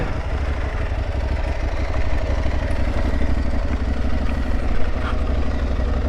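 An Aprilia Tuareg 660 motorcycle engine runs steadily at a loud, close idle with a low, even throb throughout.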